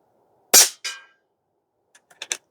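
A single sharp crack from an Airmaks Krait Pro L .30 calibre PCP air rifle firing an FX Hybrid pellet, followed by a short echo and, about a second and a half later, several faint distant ticks and a louder double smack of the pellet striking downrange.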